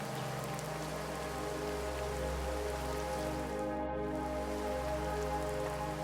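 Heavy rain falls steadily on a surface, producing a loud, continuous, dense patter that holds without a break throughout.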